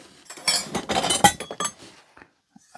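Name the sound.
vintage metal egg rings clinking while unboxed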